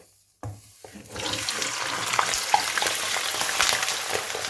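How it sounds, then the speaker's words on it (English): A whole chicken goes into hot oil in a karahi: a sudden thump, then a loud, close sizzle that swells and crackles steadily to the end. "We have to fry it in the oil until it's brown."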